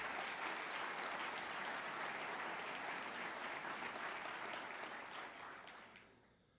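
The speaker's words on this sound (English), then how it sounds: "That's an applause line." A large crowd at a State of the City address claps steadily and loudly for several seconds, then the applause fades out toward the end.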